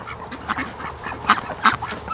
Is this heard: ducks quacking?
yes